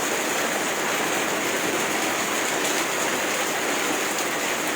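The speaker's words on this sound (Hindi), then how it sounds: "आज ये प्योर बारिश लग रही है।" Steady, dense rainfall hisses without a break, a loud, even downpour with no voices or thunder standing out.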